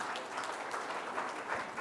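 An audience claps steadily at the Sarvottam Nagrik awards ceremony, a dense, even wash of applause from a large crowd that keeps a constant level throughout.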